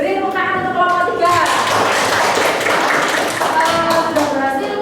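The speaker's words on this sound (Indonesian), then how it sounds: "Beri tepuk tangan untuk kelompok 3." A classroom of students claps for a student group after a presentation, a short burst of fairly close hand claps that rises over lingering voices and fades back under talk.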